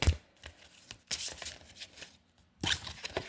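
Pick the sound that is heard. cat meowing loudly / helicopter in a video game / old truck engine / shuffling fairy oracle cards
shuffling fairy oracle cards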